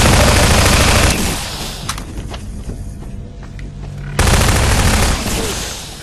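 Loud bursts of automatic gunfire and fusillades in Half-Life 2 Episode 2, heavy volleys at the start and again near the end with a quieter stretch of scattered shots between.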